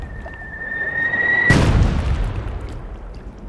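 Cannon fire in the Worms 4 Mayhem video game: one loud, close boom with a sharp onset, decaying over about two seconds, preceded by a thin whistling tone.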